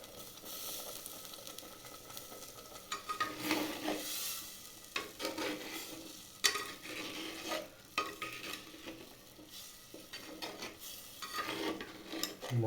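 Masala spices for dhaniya kardai chicken being stir-fried in a pan, a quiet steady sizzle broken by irregular scraping and stirring strokes of a spoon against the metal.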